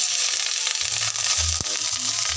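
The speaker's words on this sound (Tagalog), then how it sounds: "At ito yung igigisa natin yung sa pinagprituhan ng tuyo." Garlic and aromatics sautéed in oil left over from frying dried fish, a steady close crackling sizzle broken by soft stirring knocks and a brief scrape, with no talking.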